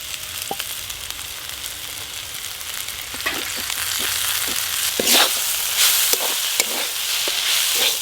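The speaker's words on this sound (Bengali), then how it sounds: "পোস্ত দিয়ে কলমি শাক ভাজা হয়ে গেল" Water spinach frying with poppy seeds in mustard oil, a close, loud crackling sizzle that swells toward the end, punctuated by sharp spatter pops and occasional stirring scrapes, no voices.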